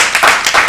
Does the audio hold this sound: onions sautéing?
no